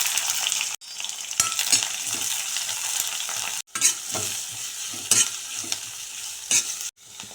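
Onions and curry leaves fry in a pan, crackling with a steady close sizzle, while a utensil scrapes and stirs in irregular strokes, punctuated by a few brief dropouts and no talk.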